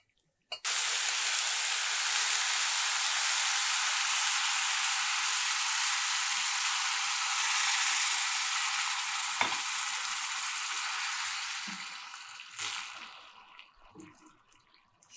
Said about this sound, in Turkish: Şöyle ara ara karıştırarak suyunu çekene kadar kaynatalım.